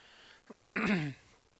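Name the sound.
throat clearing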